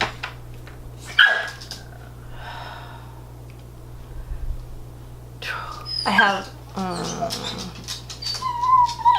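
A dog barks and whimpers in short bursts around a woman's whispered and spoken talk indoors, the yelps loud and close, with quieter whines between them.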